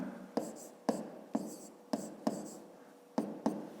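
Pen strokes on paper while working a fifth-grade geometry exercise on angles, a series of short, distinct scratching taps spaced irregularly, close and fairly quiet, with no voice over them.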